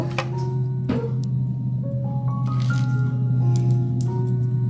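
Jhal muri is mixed by hand with chopped cucumber, tomato, onion, green chili and salt, giving soft wet squishing and a few crisp clicks and rustles close up, with no talking.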